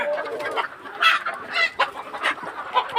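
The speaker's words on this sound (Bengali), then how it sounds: "এই দেখেন মুরগিগুলো আমার, দেখলেন?" Chickens cluck in a farmyard, a string of close, fairly quiet clucks and squawks coming in irregular bursts, with no talking over them.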